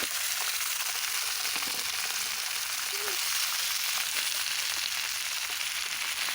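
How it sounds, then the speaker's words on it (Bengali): Onion stalks frying in hot oil with green chili and cumin, giving a steady, close sizzle that runs through the whole stretch with no talking over it. "তেল দিয়ে দিচ্ছি কাঁচা লঙ্কা জেরা এখন দিয়ে দেবো সুন্দর সুন্দর কেটে রাখা সেই সবুজ সবুজ পেঁয়াজকলিগুলো"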